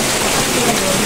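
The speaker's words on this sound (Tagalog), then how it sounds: "O, panay pa ulan." Heavy rain pours steadily outdoors during flooding, a dense continuous hiss that fills the moment, with voices in the background.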